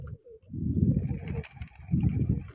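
Pigeons coo in two low, throaty bursts, close by and fairly loud, with a short pause between them.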